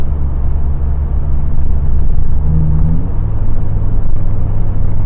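Engine and road noise from inside a lifted truck on bigger tires, cruising at 60 mph in third gear at 2400 RPM, a loud, steady low rumble and drone with a faint rising whine partway through.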